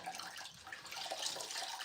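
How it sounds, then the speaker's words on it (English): A microfiber sponge is dipped and swished in water, giving a short close splashing and sloshing sound with bright liquid gurgles, with no voice. "I've got a microfiber sponge here"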